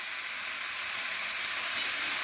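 Bottle gourd leaves frying in oil with five-spice and dry and green chillies, a steady close sizzle and hiss with one brief clink.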